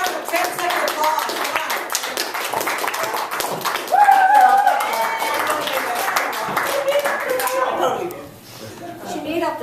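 An audience at a roast event applauds a speaker with steady crowd clapping that fades toward the end, while a voice talks over it throughout.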